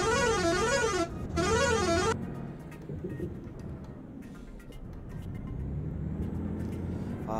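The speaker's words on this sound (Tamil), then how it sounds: "ப்ரோ கையில் எல்லாம் ஹார்ன் அடிக்க சொல்கிறீங்க" A bus horn in Euro Truck Simulator blares twice in a loud two-tone warbling pattern, followed by the steady rumble of the bus engine on an off-road route.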